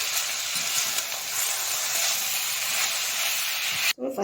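Curry leaves hit hot oil while ridge gourd is being cooked, giving a loud, steady sizzling hiss that holds almost the whole time and then cuts off abruptly.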